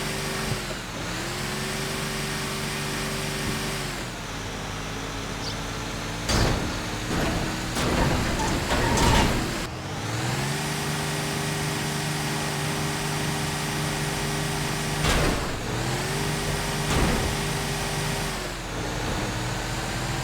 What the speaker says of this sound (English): Despite this, the engine sound remains the same as all the Phantom models,